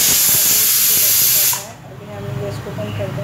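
A pressure cooker whistle releases steam in a loud, sustained hiss while turmeric cumin rice cooks, then cuts off abruptly, leaving quieter kitchen sounds.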